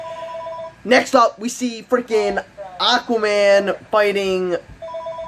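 A telephone rings with short repeated electronic bell tones at the start and end, heard under someone talking loudly over it.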